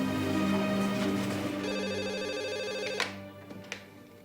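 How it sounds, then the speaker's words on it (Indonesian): A telephone rings in a drama scene, a warbling electronic ring pattern that repeats for a few seconds before cutting off, followed by light handling clicks. "Pak, ada telepon di line 2 dari Bu Miranti."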